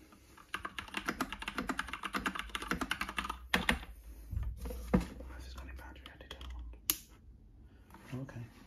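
Rapid clacky typing on an Epomaker Bloodshot mechanical keyboard with brown switches, up close in quiet ASMR style, followed by sparse taps, handling knocks and a few soft whispers.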